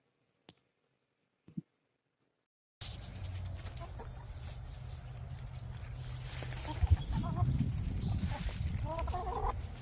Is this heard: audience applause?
no